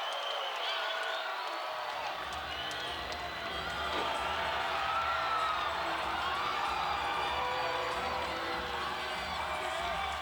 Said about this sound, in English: that definitely brought a rouse to the crowd